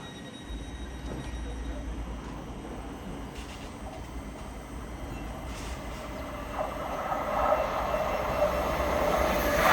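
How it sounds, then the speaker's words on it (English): LNER Azuma train passing through Alexandra Palace, a steady low rumble of wheels and motors that grows louder toward the end as it nears, with faint squealing. "passing through now is an LNER Azuma en route from London King's Cross to"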